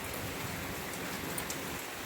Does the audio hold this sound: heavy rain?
yes